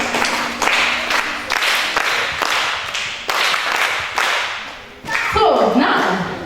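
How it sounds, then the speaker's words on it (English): A classroom audience claps together in rhythmic, evenly spaced bursts of fairly loud group clapping, ending with a brief raised voice cutting in. "We need to clap for this one."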